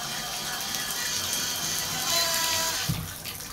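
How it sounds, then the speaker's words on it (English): Water runs steadily from a bathtub spout and shower at the same time, a close hissing splash with faint clicks of the fixture near the end. "spout is running and the shower is running"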